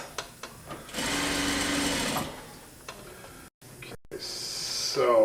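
A sewing machine stitches piping onto chair upholstery, a close mechanical whir in a short burst followed by quiet handling and a second brief run, with a voice heard near the end.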